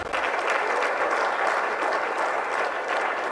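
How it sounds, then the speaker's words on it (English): Sustained, dense clapping from a large audience at a political speech on a new Nigeria in Enugu, steady and moderately loud from start to finish with no voices standing out. "Yes, please give them a round of applause."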